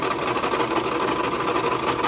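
A sewing machine stitches in the ditch along a quilt seam, a steady, fairly loud mechanical whir with a fast even rhythm that runs without a break and carries no voices.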